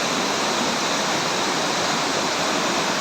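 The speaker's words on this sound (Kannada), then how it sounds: "ಈಗ ಅಬ್ಬಿಕೊಲ್ಲಿ ಫಾಲ್ಸ್ ಹತ್ರ ಇದ್ದೇವೆ." Abbikolli Falls, a waterfall in Kodagu, roars with a loud, continuous broadband rush of falling water. The wash is steady and dense from start to finish, with no voices over it.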